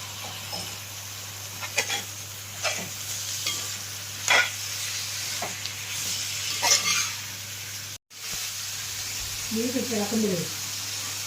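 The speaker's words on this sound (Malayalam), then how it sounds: "ഇനി നമുക്കതിലേക്ക് ബീഫ് ഇട്ട് ഇളക്കാം." Beef stirred into a sizzling turmeric masala with curry leaves in a pan for Kerala-style beef mappas, scraping strokes over steady frying hiss, with a brief voice near the end.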